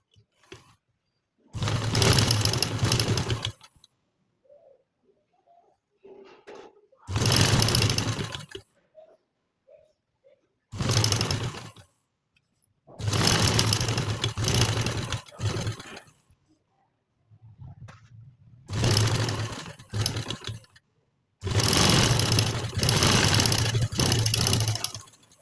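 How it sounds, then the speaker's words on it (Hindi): A sewing machine stitches a patch neck design on a garment in six separate bursts of whirring, each lasting a couple of seconds. Near, loud runs are separated by quiet pauses with soft handling sounds. "पहले हम ऊपर की तरफ नेक की सिलाई लगाएंगे।"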